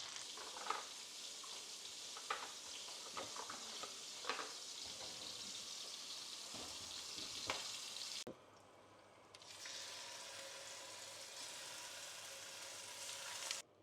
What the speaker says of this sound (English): Now we're going to toast the rice with those